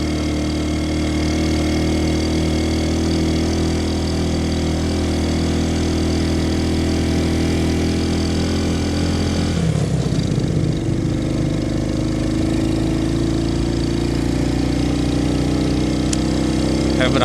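A Honda Astrea motorcycle crawls up a steep hill in first gear, its engine droning steadily and loudly with a low labouring tone and a brief dip partway through.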